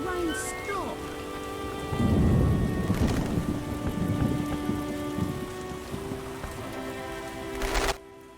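Rain pours steadily in The Witcher PC game, a dense hiss of drops on surfaces with a swell and low rumble midway, backed by soft game music tones before cutting off near the end.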